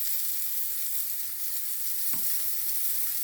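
Fresh cauliflower, green beans and mushrooms seasoned with garlic salt sizzle steadily in a pan, a close, continuous hiss with a few soft knocks and one sharper clatter of stirring partway through.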